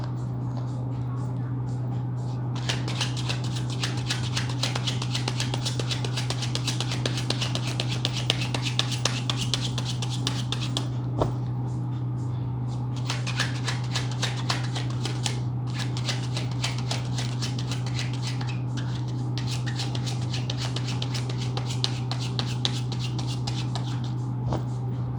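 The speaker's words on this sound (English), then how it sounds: "I'll shuffle again." Tarot cards are shuffled repeatedly in long, dense riffling bursts with short pauses, close and fairly quiet over a steady low hum.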